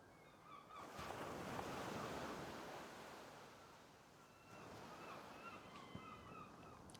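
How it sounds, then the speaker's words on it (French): Ocean surf in a video game, waves washing in and receding with a breezy hiss and faint bird calls over the water, no talking. "Je peux sentir la brise, entendre les vagues."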